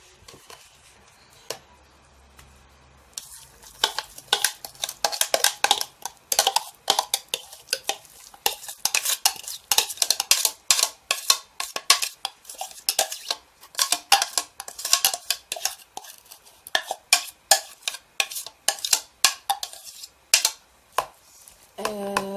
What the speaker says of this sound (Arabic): كده انا نزلت البصل، هخلطهم مع بعض وهوريهم لكم